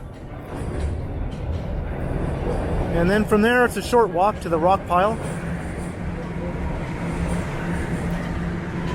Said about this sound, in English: So I'm going to record the entire subway journey from Dundas Station at least to Kipling Station